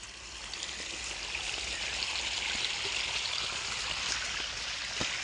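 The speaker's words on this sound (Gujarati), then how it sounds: "નેકમાંથી પાણી આવે છે" Water from a pump-fed irrigation pipe gushes steadily into a farm field, a constant close rushing and splashing with no other sounds over it.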